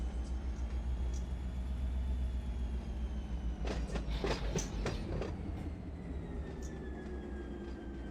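Steady rumble and drone of a freight train rolling through a busy rail yard in Run 8 Train Sim, with a brief burst of clattering wheel clicks partway through.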